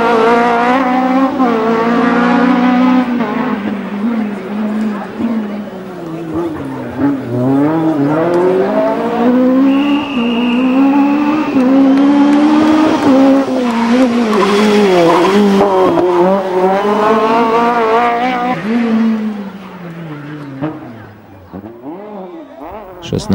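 A Renault Clio Maxi rally car races past on a 1996 Rally Poland stage, its engine screaming loud and close through rising and falling revs with tire squeal, before fading as it pulls away; a commentator speaks over it.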